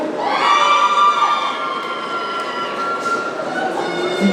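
Crowd at a cosplay contest in Laval cheering and shouting, a dense sustained roar of many voices with high shrieks rising over it, loud and continuous throughout.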